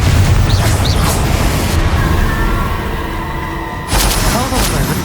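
A Confringo blasting spell fired during the final boss fight in Hogwarts Legacy, heard as booming bursts within dense game sound, with a sharp louder blast near the end.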